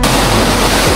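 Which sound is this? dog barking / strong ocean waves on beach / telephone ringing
strong ocean waves on beach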